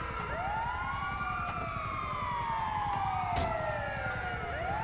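An ambulance siren in Grand Theft Auto V wails in rising and falling sweeps over a steady road rumble, fairly close and continuous.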